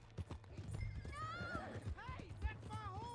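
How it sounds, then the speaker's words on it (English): A horse in the video game Red Dead Redemption 2 gallops with rhythmic clip-clop hooves and neighs loudly in the middle, while people shout over it. "that's my horse!"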